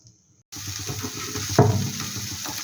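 Masala fries in oil for a Bengali koi fish curry, with a sudden hiss starting after a brief quiet and a steady sizzle and stirring clatter continuing close by, one louder scrape midway.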